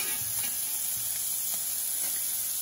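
Sea scallops sear in a cast iron skillet with a constant, loud, bright hissing sizzle that fills the whole short stretch, with no talking.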